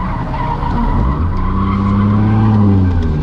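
Car drifting on a track at a Santa Pod drift day, tires skidding and squealing continuously with engine roar underneath, loud and close throughout.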